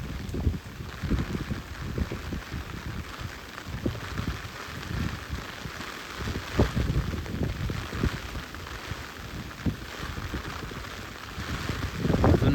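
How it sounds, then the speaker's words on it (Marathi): Strong wind gusts with heavy monsoon rain beat steadily on a fishing boat off the Konkan coast, a dense, continuous roar of rain with rushing wind buffeting the microphone, rising slightly toward the end. "वारं तर जबरदस्त आहे."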